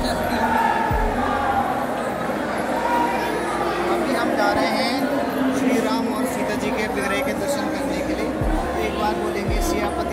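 Dense crowd of visitors murmuring and chattering at Prem Mandir temple in Vrindavan, a steady close babble of many voices with occasional low thumps, continuous throughout.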